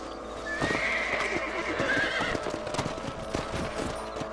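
A horse in the video game Red Dead Redemption whinnies loudly in a long, shaky neigh, followed by rhythmic hoof clip-clops over a constant background hum.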